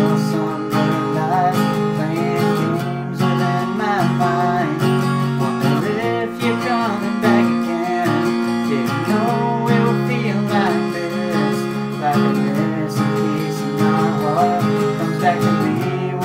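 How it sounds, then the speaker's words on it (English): Acoustic guitar strums the verse chords of a song, loud and close, in a steady continuous pattern of full chords with no voices. "So the verse is gonna sound like this."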